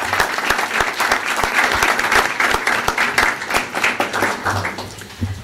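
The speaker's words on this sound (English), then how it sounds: "Can we get one more round of applause for everybody who participated in the Read Across America event?" Loud audience applause at a board of education meeting for Read Across America participants, with sharp individual claps standing out from the crowd's steady clapping throughout.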